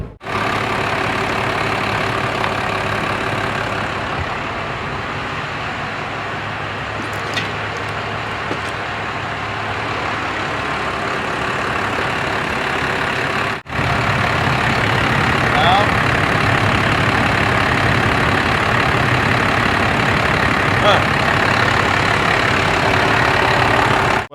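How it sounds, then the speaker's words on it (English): A Dodge truck diesel engine, with a working injection pump, idles steadily throughout with a constant low rumble and clatter. It is loud and close, with a brief dropout midway before the idle resumes, and no talk over it. "Now that we know that the engine's viable and the injection pump runs like a top, there's nothing wrong with the engine."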